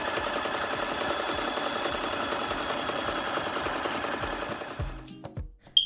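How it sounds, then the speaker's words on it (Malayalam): A domestic sewing machine stitches a sleeveless shrug made from leftover fabric such as old dupattas or sarees. It runs as a steady, close mechanical whir for about five seconds, then stops, leaving a few faint clicks. "അപ്പോൾ ഞാനിവിടെ സ്ലീവ്ലെസ് ആയിട്ടുള്ള ഇതാണ് തയ്ക്കുന്നത്."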